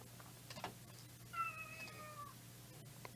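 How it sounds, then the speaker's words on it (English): A cat gives one drawn-out meow in the middle, faint against a low background hum, with a few soft clicks around it. "Kitty cat."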